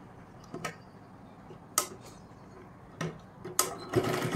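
A sewing machine stitching tucks into a size 38 blouse gives a few short, sharp bursts and ticks spread across quiet handling pauses, close by, building to a longer run of stitching at the end.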